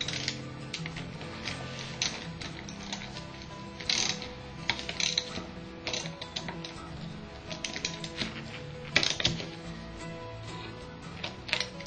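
A ratchet wrench clicks in rapid bursts while tightening a threaded adapter flange fitting, a steady dense ratcheting near the microphone with no voices.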